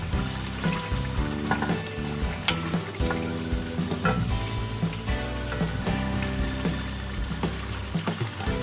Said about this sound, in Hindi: अब इसमें टमाटर डाल के भून लेंगे।